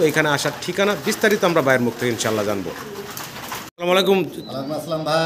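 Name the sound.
Koka pigeons cooing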